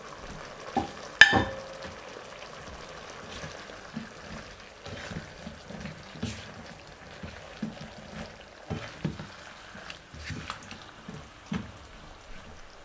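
Fried tofu with leftover vegetables cooks in pork broth, giving a soft, quiet sizzle and bubbling. A sharp clank sounds near the start, and light stirring and scraping knocks come scattered throughout.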